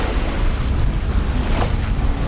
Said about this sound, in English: these southerlies today have us sailing along beautifully